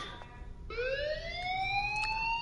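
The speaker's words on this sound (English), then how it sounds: "Hey, do you hear that fire alarm? That means you should be outside." Fire alarm in the video game Life is Strange: after a brief lull, a clear electronic siren tone sweeps slowly upward, fairly faint over soft background ambience.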